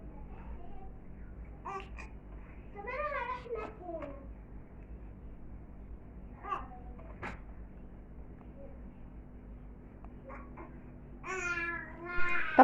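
A baby girl babbling and fussing in a home kitchen while laundry is being handled, with scattered squeals and rising whiny cries near the end over faint household rustles and bumps.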